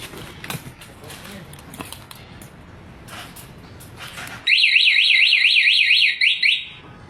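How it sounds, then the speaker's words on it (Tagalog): Motorcycle anti-theft alarm suddenly blaring a loud, rapidly warbling siren tone after quiet handling noises, sounding for a couple of seconds before cutting off. "Kahit kunting galaw mo sa motor, aalarm talaga."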